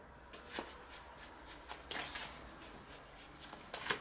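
A tarot deck being shuffled by hand, a continuous close riffling and sliding of cards with sharper flicks now and then, soft and steady with no voice.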